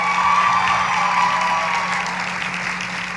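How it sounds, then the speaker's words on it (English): Applause and cheering from an audience at the ROWDYs awards event fill the room for the event staff, a loud, continuous wash of clapping that tapers slightly toward the end. "let's give the loudest round of applause for everyone who helped put this on."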